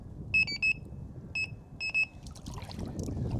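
Avid Carp VTX+ carp fishing bite alarms, checked after a rainstorm, give bursts of sharp electronic beeps, two or three quick tones at a time, over a steady background of water and outdoor noise.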